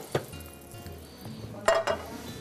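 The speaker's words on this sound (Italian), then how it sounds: "Ecco qua i friarielli che stanno piano piano cuocendo" Friarielli, broccoli rabe, cook in a pan with a soft sizzle, broken by a few clinks and stirring knocks of utensils against the pan.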